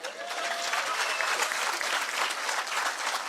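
A crowd at a talk claps steadily for a few seconds, a close, even wash of many hands with no pause.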